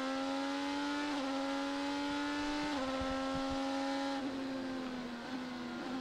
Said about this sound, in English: As we listen to Pato O'Ward downshift into that corner